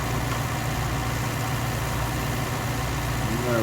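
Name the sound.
tractor engine running during beet lifting, 1965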